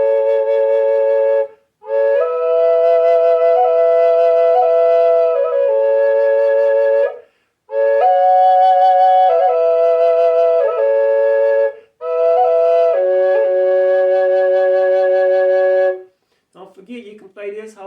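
Wooden double drone flute played through both chambers at once, two steady tones sounding together in long sustained phrases separated by short breath pauses, with a brief softer breathy sound at the end.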